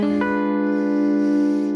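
A single guitar chord is struck and left to ring, sustaining evenly and close up with no other sounds.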